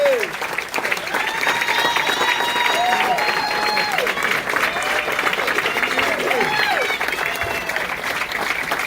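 Sustained applause from an awards-gala audience welcoming an honoree at a chamber of commerce awards event, steady and full throughout with voices audible beneath the clapping.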